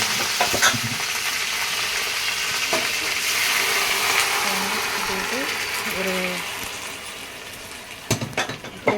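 Curry leaves crackle and sizzle in hot tempering oil, a steady frying hiss with occasional utensil clinks and a voice talking faintly over it.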